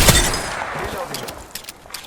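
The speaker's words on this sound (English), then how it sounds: "They're shooting at me." Enemy gunfire in the Apex Legends battle royale shooter: a loud burst of rapid shots right at the start, then scattered quieter pops and echoing reports trailing off over the next two seconds.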